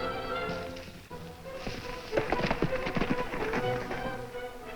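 Horse hooves clip-clop in a rhythmic run of taps over a music and voice backdrop in an old Western radio-style drama, the hoofbeats fairly close and steady through the middle.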